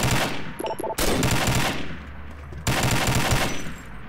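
Rifle shots from a sniper in a tactical first-person shooter match, loud sharp cracks at about one second and again near two and a half seconds, each followed by dense rumbling game ambience and echo.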